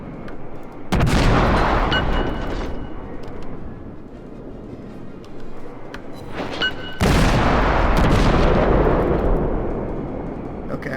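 Cruiser guns fire in the naval combat game World of Warships: two loud booming salvos about six seconds apart, each with a long rumbling decay, with no talk over them.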